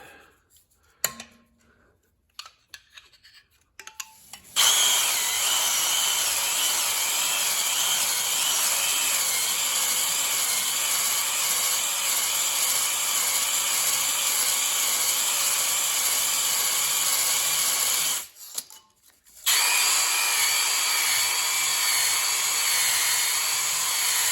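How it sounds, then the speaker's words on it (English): A drill-driven cylinder hone works the oiled cylinders of a 1973 Kubota L210 engine to break the glazing. It makes a loud, steady whirring grind that runs for about fourteen seconds, cuts out briefly, then resumes after a few faint clicks at the start. "we're going to put a little oil down in these cylinders here, and that's going to help us hone this thing out"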